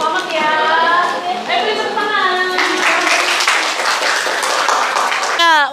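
Classroom students clap for a winning group, a steady burst of applause running throughout with a voice and chatter mixed in, ending in a brief high squeal.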